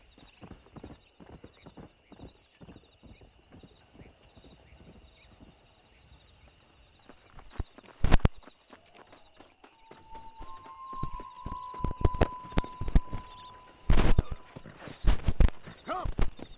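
Horses ridden in the video game Red Dead Redemption, hooves clip-clopping at a walk that picks up into a faster run with loud thuds, a neigh and voices talking over the hoofbeats.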